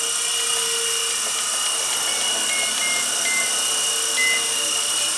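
A Blade 120 S2 radio-controlled micro helicopter hovers and flies nearby, a steady high-pitched whine of motor and rotor holding without a break, alone.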